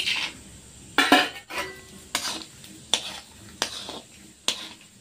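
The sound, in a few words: peanuts frying in oil being stirred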